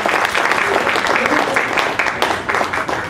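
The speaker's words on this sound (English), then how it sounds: "So, nice round of applause for Anita Paul!" A live audience at a court reporters' training presentation breaks into a dense, loud round of clapping that fills the room steadily for a few seconds.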